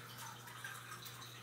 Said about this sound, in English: it's my turtle tank and I can't turn off his filter